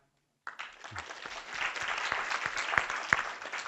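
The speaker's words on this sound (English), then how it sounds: "Can we give them a round of applause?" An audience at a lecture on tuberculosis breaks into applause after a brief silence, scattered claps building to a moderate, fairly distant round.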